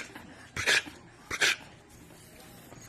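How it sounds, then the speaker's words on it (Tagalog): A pitbull at a house under construction gives two short, sharp barks about a second apart, close by, with quiet background between them. "Yung pitbull dito."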